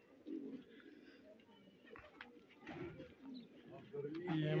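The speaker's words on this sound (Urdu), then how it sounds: "بہت ہی خوبصورت کبوتر ہے، بڑے سائز اور فریش کبوتر ہے۔" Pigeons coo softly in low, rolling murmurs, several birds overlapping at a quiet level with faint background noise.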